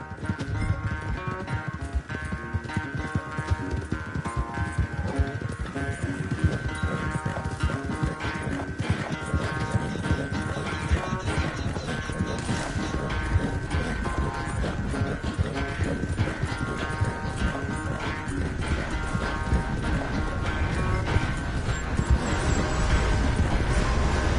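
Horse hooves gallop in the Red Dead Redemption 2 video game, a dense, continuous clip-clop rhythm that holds loud and steady throughout, with game music or ambience beneath and no talk over it.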